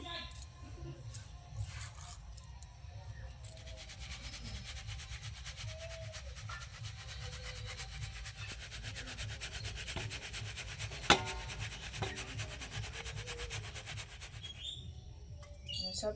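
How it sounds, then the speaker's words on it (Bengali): Rice being ground by hand on a grinding stone, giving a steady low rubbing and scraping that carries on throughout, with faint bird chirps and scattered clicks in the background. "বাকি চালগুলো এইভাবে একবার বেটে নেবো আমি।"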